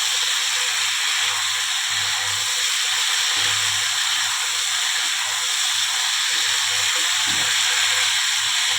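Mixed vegetables and spices with Kashmiri chilli powder sizzle and hiss steadily in a pan for a fish curry, with faint low scraping from stirring repeating under the constant frying noise.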